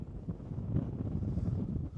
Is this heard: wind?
yes